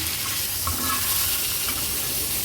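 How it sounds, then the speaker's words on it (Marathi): Fish fries in hot oil in a pan, a steady broadband sizzle with faint crackles, heard close and alone without speech. "तुम्ही बघू शकता अगदी व्यवस्थित हा मासा फ्राय झाला आहे"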